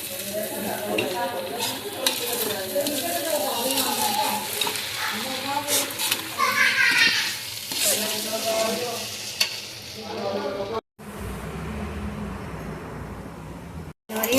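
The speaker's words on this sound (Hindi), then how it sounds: "आलू फ्राई कर रही हूँ" Potatoes fry and sizzle in a pan on a home stove, a steady crackling hiss with stirring scrapes, lasting most of the time and broken by a brief gap near the end, with a little faint voice in the background.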